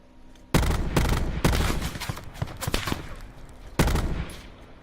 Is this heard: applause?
no